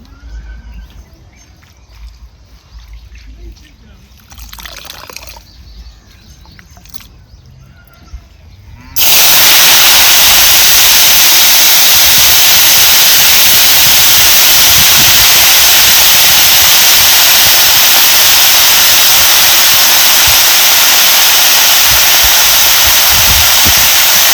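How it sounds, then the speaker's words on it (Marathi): Loud, steady sizzling hiss of saratya greens cooking in a hot pan. It starts abruptly after quieter background sounds and continues without a break. "आणि ही भाजी आपल्याला शिजत टाकायची"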